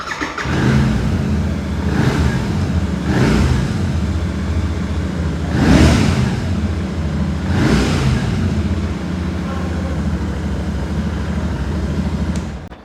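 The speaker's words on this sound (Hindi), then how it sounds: "इन तीनों बाइकों की एग्जॉस्ट साउंड आपने देखी" A Royal Enfield 650 motorbike engine idles with a deep, throbbing exhaust note, rising into several revs spaced a couple of seconds apart, close and loud.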